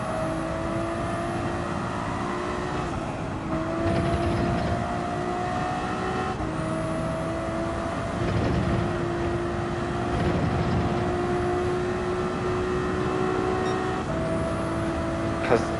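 A Ferrari in Gran Turismo 7 cruising by a lake, a steady engine drone with sustained tonal whine and slight rises in intensity, heard continuously throughout.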